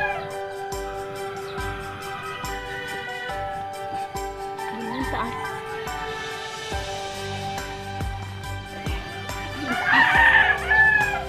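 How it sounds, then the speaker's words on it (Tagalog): Chickens and a rooster in a backyard with custard apple trees, the rooster crowing loudly near the end over steady clucking and flock noise, with a few faint voices in the background. "Dami nating manok dito. Maingay na naman sila."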